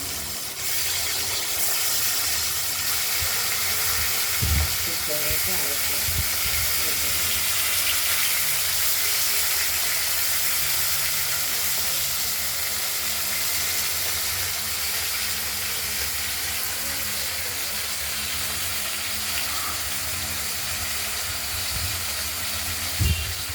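Katla fish pieces frying in oil: a steady broadband sizzle and hiss runs throughout, loud and close, with a few faint low clunks and knocks now and then, no voices.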